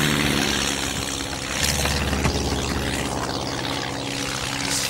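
Propeller airplane flying low overhead: a loud, continuous droning engine roar that holds steady and swells slightly midway.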